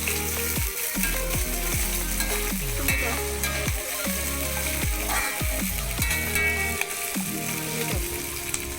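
Cumin seeds sizzle and crackle in hot oil in a pan while a spoon scrapes and stirs in repeated strokes, a steady loud frying texture with no voices.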